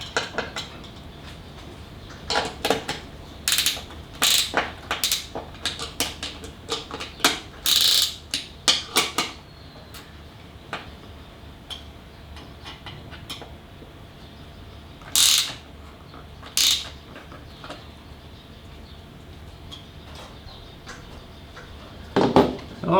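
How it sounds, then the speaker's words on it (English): Small spanner ratcheting to tighten a nut while fitting a custom SUV drawer, bursts of quick close clicking in short irregular runs separated by quiet gaps, with a few louder clicks and clunks. "let me go get my little spanner and then I can tighten that up"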